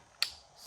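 A torque wrench, able to go down to 5 foot-pounds, is adjusted with a single quick ratcheting click, close and quiet against near silence.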